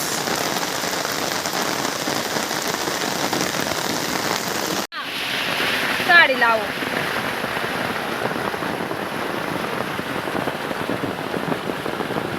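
Heavy monsoon rain pours steadily onto surfaces near a Khandoba temple by Barvi Dam, a loud dense hiss throughout with a brief dropout partway and a voice speaking briefly.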